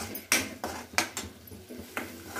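A spoon scrapes and knocks around a pan while masala cooks, giving several sharp metallic clinks at an uneven rhythm over a faint background hum.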